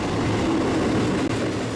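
A train at Fullerton station, where Amtrak, Metrolink and BNSF Pacific Surfliner trains run, makes a steady, loud rumble and roar with no break in the noise.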